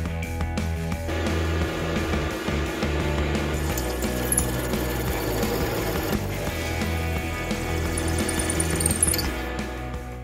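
A reamer of 8.99 mm finishing a pre-drilled hole in a motorcycle cylinder head in a home garage, heard as a steady, loud mechanical whir and grind with a constant droning tone that runs throughout.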